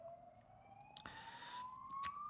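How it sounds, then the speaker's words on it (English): A faint, distant siren with a slowly rising wail, accompanied by a brief burst of broadband noise and a few clicks. "You can hear an alarm there, no, a siren"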